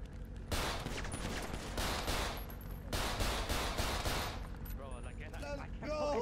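Bursts of rapid gunfire in GTA 5 roleplay, loud automatic volleys in several dense waves with short gaps, ending in scattered shots as a voice speaks over the last moments.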